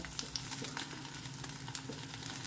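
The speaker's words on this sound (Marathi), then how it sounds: "सो हांगासर न्ही हांव पनीर फ्राय करून घेता." Paneer cubes frying in a pan with oil, a steady close sizzle with small crackles and pops throughout, no talking.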